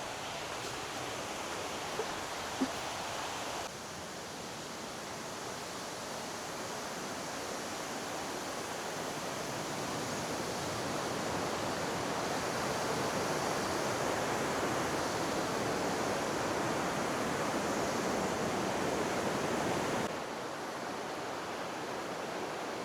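Steady rushing roar of Big Burn Falls, a waterfall heard from a woodland approach path, continuous broadband noise that swells slightly louder in the middle stretch, with no voices.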